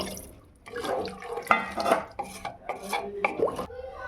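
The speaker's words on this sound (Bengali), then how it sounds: "এবার আমি এতে দিয়ে দেবো পানি" Water poured from a vessel into rice already fried with salt in a pressure cooker for dry khichuri, giving a close, uneven splashing pour with clinks of the pot over several seconds, no voices.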